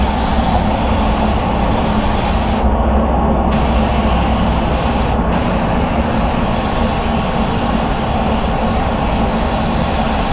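A spray gun lays Supernova Black Mamba basecoat onto a Ford Focus fender blend panel as a continuous loud, broad hiss that briefly thins out twice before resuming, with no talk.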